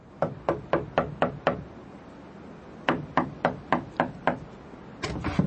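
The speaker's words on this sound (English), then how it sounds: "I left the light on in the shed and went across to the cottage and knocked on the door." Knuckles rap on a wooden cottage door as a radio drama sound effect, three bursts of sharp, evenly paced knocks of five to seven raps each, close and loud with pauses between.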